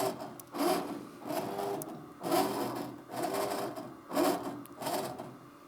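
Embroidery machine tracing the design outline on a ski mask hoop, running in repeated mechanical pulses of whirring and tapping at a steady rhythm, fairly quiet and close with no talk.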